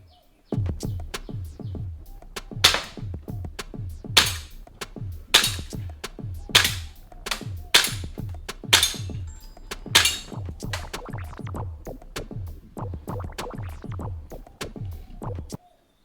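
Repeated pops of a Tokyo Marui Glock 26 BB gun firing at a heavy steel target, each sharp crack followed by a metallic clink, in a steady series of single shots, close and loud, with no talking.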